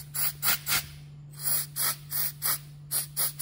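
Short hissing bursts from a silicone spray can aimed at a Hyundai Veloster fuel injector repeat in a quick, uneven rhythm, about ten of them, close up over a faint low hum.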